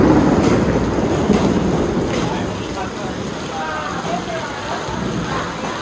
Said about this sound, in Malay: Hujan lebat.